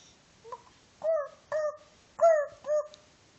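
Four or five short, tonal, bark-like yaps come in an uneven series against a quiet background, likely a voice imitating a dog barking.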